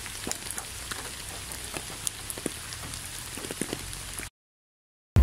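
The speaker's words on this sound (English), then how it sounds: "This video has a loud rain surrounding sound." Loud rain patters close by with scattered heavy drops crackling over a constant hiss, then cuts to silence before a brief burst of another sound.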